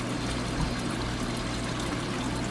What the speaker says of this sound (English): So you see the water going up and down here.